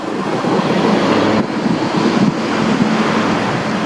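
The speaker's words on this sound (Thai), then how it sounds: "ด้านหลังนี่ก็เป็นทะเลนะครับ" Sea surf washing steadily below a viewpoint on Koh Chang island, a broad continuous roar of waves mixed with wind buffeting the microphone, loud and unbroken with no one speaking.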